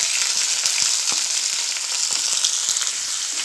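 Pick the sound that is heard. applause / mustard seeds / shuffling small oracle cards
mustard seeds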